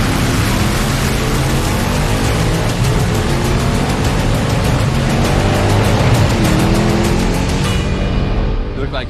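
A drag race car tears down the track at Roadkill Nights, its engine roaring loud and sustained at full throttle before cutting off sharply near the end of the run.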